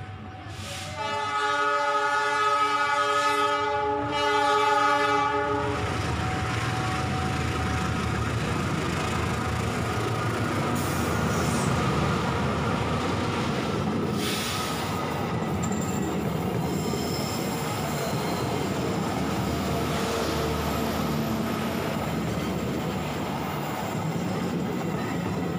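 A passenger train pulls into Paledang station in Indonesia on a double-track line. Its horn blasts loudly at the start, then wheels squeal and the railcars rumble steadily past nearby.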